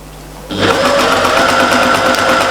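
A sewing machine starts up after half a second of quiet and runs at a steady, fast whirring chatter while stitching a row on a patchwork cushion, close and loud with no voices.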